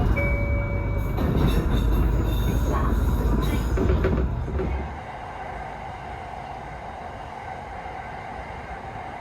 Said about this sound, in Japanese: 筒石駅が近づいてまいりました。